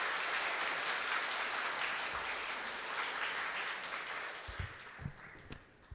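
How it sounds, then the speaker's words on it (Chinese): A church congregation at a Sunday worship service applauds to welcome the pastor, a broad sustained wash of clapping from many hands that gradually thins and tapers off toward the end. "我们用热烈的掌声来欢迎"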